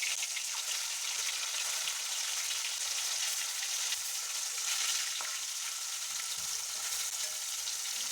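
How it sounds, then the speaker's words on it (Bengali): Rohu fish frying in hot mustard oil, giving a steady, dense sizzle that stays even and close for the whole stretch with no voices over it. "এটাকে খুব ভালো করে গরম করে নেব, তারপরে একে একে মাছগুলোকে আমি ভেজে নেব।"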